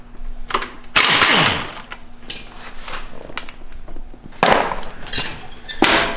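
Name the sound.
impact wrench during Cummins engine teardown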